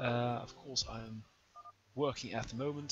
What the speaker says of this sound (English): if you can hear that in the background, that is my phone